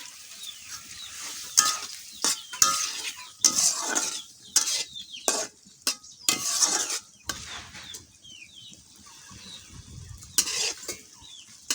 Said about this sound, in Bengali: মাছগুলোকে এখন আমি ভালোভাবে কষিয়ে নেব।